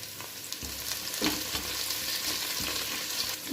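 Curry leaves sizzle in hot oil in a pan for a Kadapa-style uggani, a steady close crackle with brief bursts and light stirring throughout.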